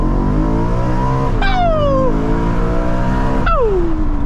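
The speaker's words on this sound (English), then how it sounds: "Oh, that V8! Listen to how far it revs." A powerful V8 car engine revs high, climbing in pitch, drops on a gear change, then screams up again before falling away with a rising burble.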